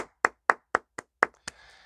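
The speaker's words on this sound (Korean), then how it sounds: "박수 한번 치겠습니다." Six evenly spaced, sharp claps in a steady rhythm at a donors' club gathering, each crisp and isolated, followed by a faint trailing murmur.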